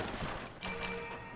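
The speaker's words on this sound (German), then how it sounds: "Ich hör Schüsse." Gunfire rings out in the video game Resident Evil 6 as a rapid burst of distant, muffled shots. A sharp thump lands about midway and is followed by a ringing tail, all under a steady game background.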